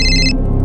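A telephone rings once in a short, loud electronic trill that cuts off abruptly, leaving low room noise.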